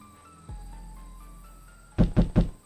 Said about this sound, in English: Luca was startled from his dream by a banging on the floor.